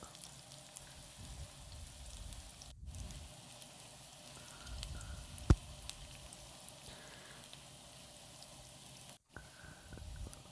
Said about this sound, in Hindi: एक अनियन चॉप करके मैं इसमें डाल दूँगी इसको ऑयल में सॉटे कर लेंगे